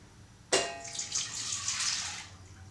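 Milk poured from a measuring jar into a pot, a sudden splash followed by a steady liquid stream for about two seconds, close and fairly quiet, with no talking.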